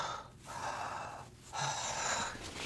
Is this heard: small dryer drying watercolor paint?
no